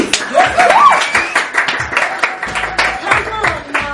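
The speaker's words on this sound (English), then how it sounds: "We need to give Musa a round of applause, please." A small audience clapping for Musa at a film masterclass, scattered uneven claps mixed with excited voices and laughter, fairly close and loud, fading into chatter.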